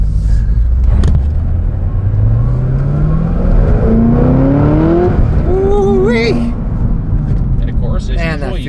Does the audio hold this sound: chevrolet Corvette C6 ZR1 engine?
yes